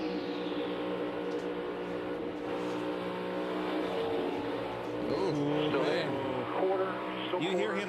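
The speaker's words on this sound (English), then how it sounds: "You hear him throttle up to get in that position." NASCAR Cup Series race car throttling up in three-wide traffic at Darlington, engine note rising and surging in pitch under race commentary, with other cars droning nearby.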